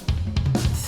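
Short drum fill played back from Guitar Pro software audio, with the kick far louder than the rest: a few punchy, booming kick and tom hits in under a second, close and dry.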